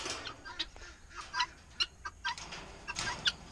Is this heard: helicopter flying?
no